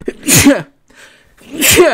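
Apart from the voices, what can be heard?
sneeze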